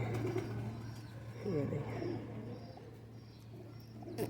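A Ferozpuri breed pigeon coos softly in a short burst close by, over a steady low hum, while someone speaks briefly.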